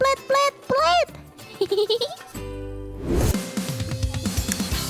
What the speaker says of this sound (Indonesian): Kambing kacang memang banyak dipelihara di Indonesia, terutama di Pulau Sumbawa.